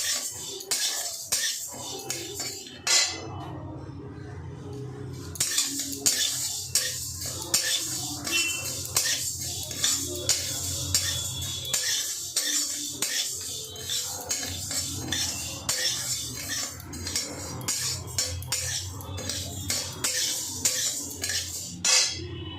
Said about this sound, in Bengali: তাহলে প্রথমে আমরা মুগের ডালটাকে ভেজে নিই ভালো করে